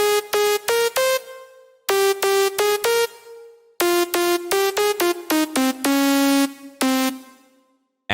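Clicker synth lead preset from the TPS Gravity slap house pack, played with its sharp attack: punchy, bright plucked chords in short rhythmic phrases with gaps between, ending on a sustained note that fades out.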